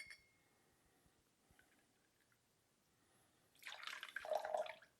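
Freshly squeezed lemon juice poured into a Jack Rose cocktail, a brief splashing pour near the end following quiet drips, faint and close with no talking.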